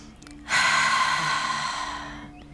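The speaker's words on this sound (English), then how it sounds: "Inhale and exhale to your maximum." One deep, drawn-out breath during an outdoor yoga stretch in a park. It starts as a sudden rush of air and fades slowly over about two seconds, close and breathy.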